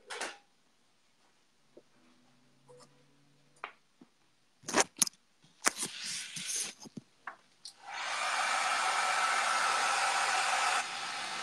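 Hair dryer blowing on a chalk drawing at a chalk art event, a loud steady roar starting after scattered knocks and rustles, nearby and continuing alone.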